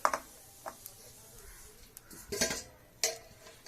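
A metal cake tin is set down onto a stand inside a pan of heated salt, giving a few sharp metallic clinks and scrapes spread over a few seconds, close and fairly quiet, with no talk.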